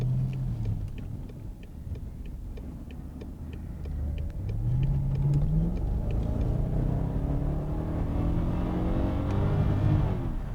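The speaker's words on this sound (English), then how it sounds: "I love the way this motor builds up power." A BMW 650i engine revs and builds power, rising through the gears in long climbing pulls with a deep rumble, heard from inside the car and growing louder over about ten seconds.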